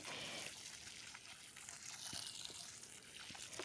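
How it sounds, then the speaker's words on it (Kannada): Water being poured onto potted tomato plants, a steady soft trickle and splash at close range, continuous throughout with no talking. "ತುಂಬ ಚೆನ್ನಾಗಿ ನೀರು ಹಾಕ್ಕೊಳ್ತೀನಿ"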